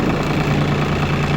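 A Yanmar F220 tractor engine idles close by with a steady, dense low rumble and fine rapid knocking, constant and unbroken with no voices.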